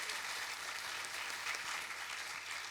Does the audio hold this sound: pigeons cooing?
no